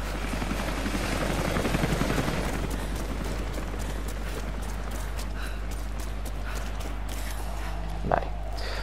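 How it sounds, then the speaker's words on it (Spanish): A helicopter in Rise of the Tomb Raider, its rotor roaring loudly at first and then fading to a steady drone, with a few faint clanks and thuds and no talking. "El helicóptero"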